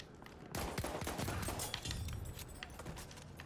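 Gunfire rattles in the first-person shooter Battlefield 1 as a dense, continuous burst of crackling shots and impacts from mid-distance, fairly quiet, with no talking.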